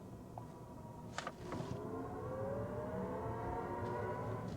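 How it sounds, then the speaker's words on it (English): Synthetic acceleration sound from a 2024 Chevy Blazer EV RS in sport mode, a steady electronic hum whose layered tones glide upward as the electric SUV speeds up, with a few brief higher chirps early on. "if you want a little more sound, you got sport mode."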